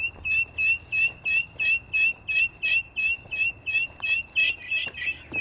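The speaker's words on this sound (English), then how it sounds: "this little guy is going crazy right now in here, just chirping and chirping and chirping" A young guinea fowl keet chirps loudly and close by in a steady, rapid series of about fifteen sharp, piercing calls, with faint background noise and no talking.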